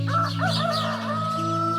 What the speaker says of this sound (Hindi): टिंकू, तू मुर्गियों के लिए बर्तनों में पानी रख दे। मैं मुर्गियों को दाना डाल देती हूँ।